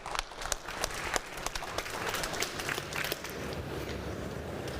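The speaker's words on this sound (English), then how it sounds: "a warm round of applause as we invite Stephen to the stage" Conference audience applauding to welcome a speaker to the stage, dense steady clapping filling the room throughout.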